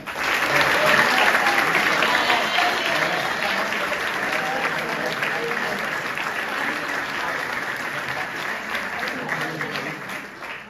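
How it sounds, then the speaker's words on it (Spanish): A theatre crowd claps steadily in a long, even round of applause for the crew, a dense close wash of hands with a few voices mixed in, easing slightly at the close. "Un aplauso también muy caluroso para nuestros fundadores,"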